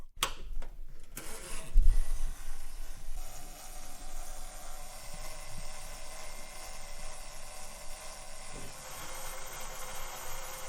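A bathroom-style hair dryer blows warm air over a piece of jewellery in a jeweller's workshop, a steady whooshing hum that starts abruptly after a short clatter and runs on evenly.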